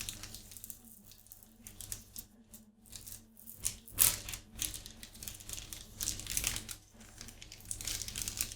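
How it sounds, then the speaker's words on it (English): Crinkly plastic packaging around new specialty paint brushes being handled up close, with continuous rustling and crackling that swells in louder bursts, no talk. "who doesn't like crinkly packaging, right?"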